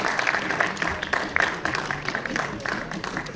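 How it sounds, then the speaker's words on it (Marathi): Applause from the audience at a Marathi film trailer launch fills a short stretch with dense, even clapping that holds at moderate loudness throughout. "सत्यजित साठी जोरदार टाळ्या"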